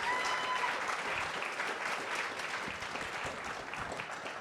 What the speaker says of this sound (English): Yeah, clap for them.